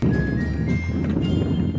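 A horse snorts and whinnies close by with the shuffle of hooves, a brief, loud burst with no talk.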